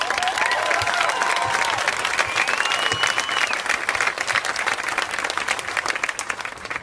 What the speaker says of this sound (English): He introduced me, and you clapped.